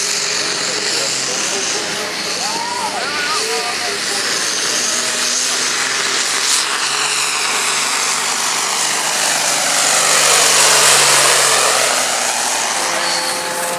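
A tractor engine roaring during a tractor pulling event in Stekene, a loud sustained drone that swells toward the end, with a commentator's voice talking over it.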